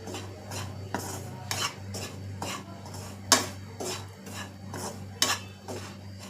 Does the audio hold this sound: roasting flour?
yes